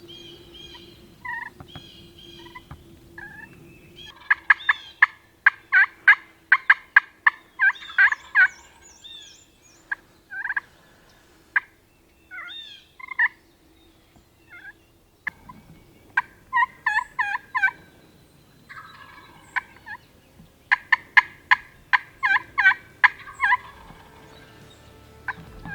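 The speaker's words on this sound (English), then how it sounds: "We ended up finding a tom out there." A wild turkey tom gobbles outdoors, several loud rattling gobbles in bursts across the stretch, with quieter calls and pauses between them, close and clear over a faint background.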